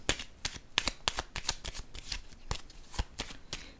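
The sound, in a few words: shuffling and drawing tarot cards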